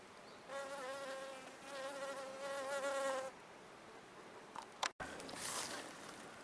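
Honey bees buzzing at a spring apiary of about twenty hives while gathering nectar, a steady insect drone close by that holds for a few seconds, breaks off briefly, then returns strongly.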